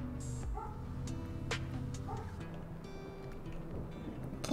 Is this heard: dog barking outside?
yes